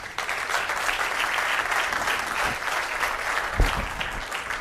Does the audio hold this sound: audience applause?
yes